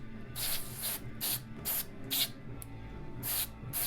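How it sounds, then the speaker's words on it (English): Short hissing bursts of aerosol cleaner spray onto an old Pioneer SX535 stereo receiver, a series of close, uneven squirts with brief gaps between them. "Let's spray her all down right there."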